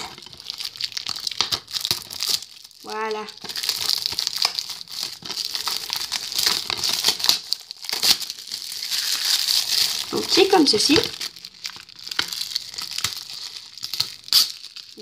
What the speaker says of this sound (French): Ce qu'on entend les bruits, c'est le bruit d'emballage.